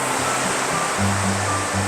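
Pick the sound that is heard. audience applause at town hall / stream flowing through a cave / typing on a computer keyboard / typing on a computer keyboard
stream flowing through a cave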